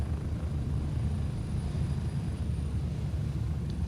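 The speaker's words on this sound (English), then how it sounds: "Let me get out of the LZ so that the helicopter doesn't squash me." A helicopter near a landing zone in a military shooter video game, its steady low rotor and engine drone continuous and moderately close, with no talk over it.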